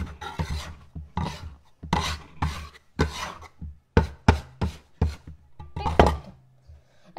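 Soft potato dough for Neapolitan graffe being kneaded by hand on a floured surface: repeated rubbing, pressing and soft slapping strokes in an uneven rhythm, close up, with no talk.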